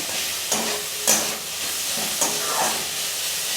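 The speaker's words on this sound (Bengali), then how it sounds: "এইভাবে মোটামুটি 5 মিনিট এটাকে ভাজতে হবে, অবশ্যই ঢাকা দিয়ে।" Chopped vegetables for semolina upma sizzle steadily in a covered pan, a continuous frying hiss with a few soft stirring knocks and clinks.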